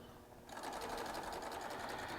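A Triumph serger fitted with a Baby Lock ruffling foot, set to stitch length 4 with mid-range needle tension, starts up after a brief pause and runs in a fast, steady whirring stitch rhythm, close by.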